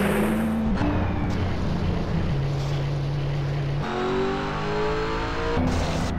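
The Knight Rider car mod's engine in GTA San Andreas drones loudly and continuously, shifting pitch several times as it revs and changes gear, with no voices.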